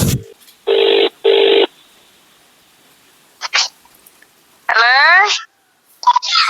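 Phone call ringback tone plays as two loud, even beeping bursts in quick succession, followed by a pause and then people talking on the line.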